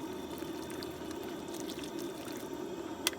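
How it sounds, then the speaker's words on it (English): Water from a bottle pours steadily into a camp stew pot of beef broth, a soft continuous splashing trickle heard alone and fairly faint, with a small clink near the end. "I'm going to add about a half a bottle of water"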